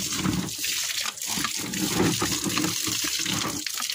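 Water sprays steadily from a hose or tap to rinse mud off feet after a flood, a continuous broadband hiss with small splashing fluctuations, close and fairly loud, with no talk over it.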